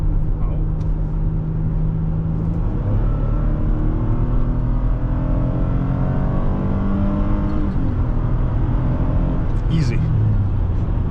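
A 2011 Lexus RX350 climbing a hill on a back road, steady engine and road drone heard from inside the cabin with slowly shifting tone, loud and continuous.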